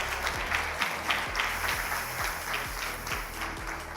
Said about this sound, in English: Give them a round of applause once again, please.